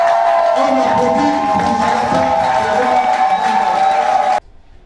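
Crowd at an RDPC political rally for the Océan Sud section applauding and cheering, a dense steady wash of clapping and voices that cuts off abruptly near the end.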